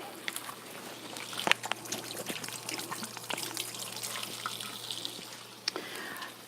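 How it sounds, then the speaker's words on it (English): Tap water runs into a kitchen sink while it is washed, a continuous close trickle and splash broken by sharp clinks and knocks of handling. "And I'll wash my sink."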